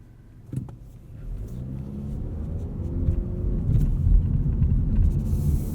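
Inside a 2019 Mazda3 AWD sedan on rough road, a low engine and road rumble builds steadily, with faint bumps and thuds from the pavement.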